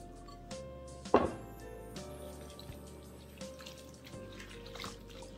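Sorrel leaves are washed in a sink under running tap water, a quiet continuous trickle with a brief splash and a few soft handling knocks, close by and without talk.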